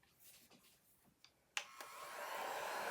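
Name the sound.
heat gun drying a chalk-painted T-shirt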